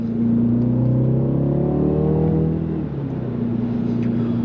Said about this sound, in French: On obtient en mode sport une sonorité plutôt présente